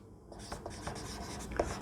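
Chalk or marker scratches across a classroom board in short strokes while a chemical name is written during a Class 10 chemistry lesson, a series of quick, light, close scraping marks with no speech.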